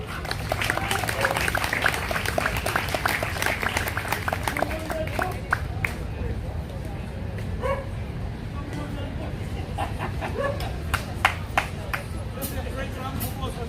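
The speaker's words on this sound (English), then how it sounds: "Let's have a great round of applause for this gentleman." Outdoor crowd in Hudson River Park, Manhattan, applauds a live jazz musician: continuous scattered clapping amid park ambience, with barking dogs and voices mixed in.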